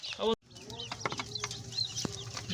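Chickens cluck in short bursts nearby over a low background hum, with a brief sharp noise at the start.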